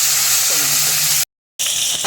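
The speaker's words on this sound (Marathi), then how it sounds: "गरम गरम तेलात सोडूया, ते लवकर बारीक होतात" Tomatoes drop into very hot oil and fry with a loud, dense crackling sizzle, cut by a short silent gap before the frying resumes.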